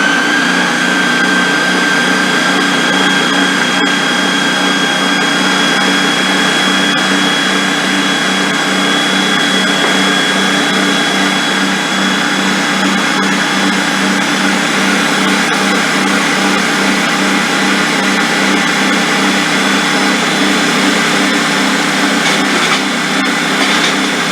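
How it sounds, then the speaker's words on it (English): A loud Ninja blender runs continuously, churning sweet potato pie filling with a steady high-pitched motor whine and a constant grinding roar that holds unchanged throughout. "Remember, the Ninja is very loud."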